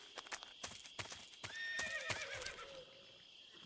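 Horses neigh and whinny over rhythmic hoof clops in the jungle in the video game Metal Gear Solid 3, with a sharp synthetic game-like quality; no speech.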